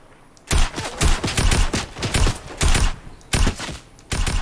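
Rapid bursts of gunfire from a Fortnite match, six or so loud, close volleys of rattling shots separated by brief pauses, with no talk.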